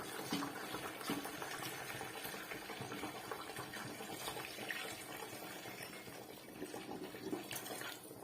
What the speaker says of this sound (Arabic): غادي نزيد الماء الكافي